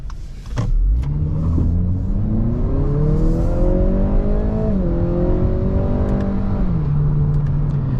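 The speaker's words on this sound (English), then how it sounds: "I want to see if I could get any wheels to spin." A 2022 Acura ILX sedan in sport mode accelerating hard from a stop with traction control on: the engine note climbs steadily, dips briefly at a shift, then rises again, loud and close inside the cabin with no talking.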